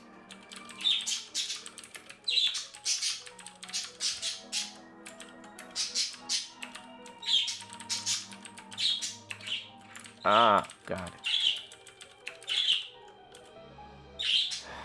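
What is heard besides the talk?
pet birds squawking near microphone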